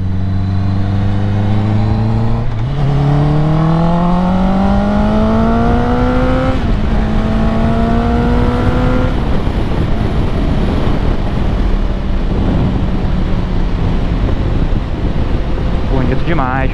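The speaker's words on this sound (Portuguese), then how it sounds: "Só pra ficar ouvindo o barulho da moto." A 2021 Honda CBR 650R with an Akrapovic exhaust revs loudly and close by. The engine note climbs in steady stepped sweeps, holds high, then drops back to idle amid wind rush.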